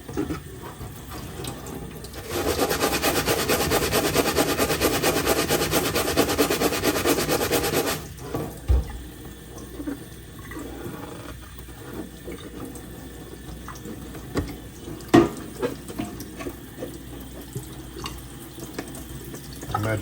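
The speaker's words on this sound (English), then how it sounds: "just breaking down the salt with the water and a plastic brush" Plastic brush scrubbing salt and water across a clear Lexan RC car body, a dense, steady wet scratching close up that runs a few seconds and then stops, followed by quieter handling taps and small bumps.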